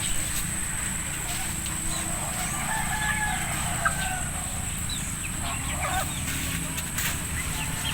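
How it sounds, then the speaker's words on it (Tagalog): Chickens clucking and a rooster calling amid steady outdoor background noise, the birds moderately close and continuous throughout. "Yan, may manok, oh."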